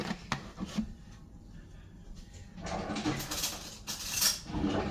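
A spoon scrapes and scoops butter from a container in a home kitchen, a few soft scraping and knocking sounds close by, quiet at first and growing busier toward the end.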